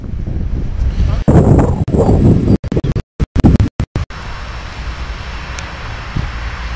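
Strong wind buffets the microphone outdoors at a 2017 carnival in Sorbiers, France, with a heavy low roar, broken by several abrupt cuts, then settles into a steady gusty rumble.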